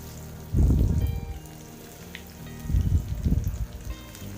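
Poha and Maggi nuggets dropped into oil on a medium flame burst into two loud, close bubbling sizzles, each fading back toward a quieter hiss between them.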